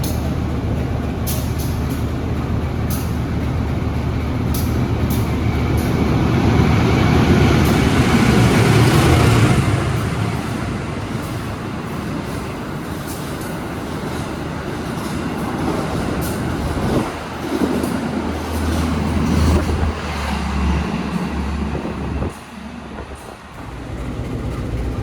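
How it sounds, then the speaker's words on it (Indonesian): An Argo Semeru express train rolls past a stopped train at Gombong station, a long loud rumble of wheels and carriages building then easing, with brake hiss and squeals over the steady rail noise. "Ternyata di Gombong kita berhenti dan kena susul sama kereta Argo lintas selatan, kereta api Argo Semeru teman-teman."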